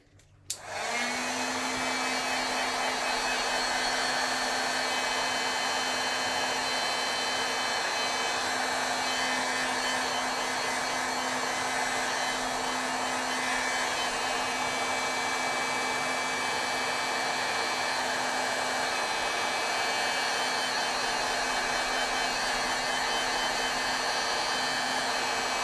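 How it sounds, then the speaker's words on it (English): A heat gun blows a steady, loud whoosh with a constant whine for nearly half a minute, drying moist stamped ink on a paper autumn tree scene, starting abruptly and running alone without talk. "Standard just heat gun."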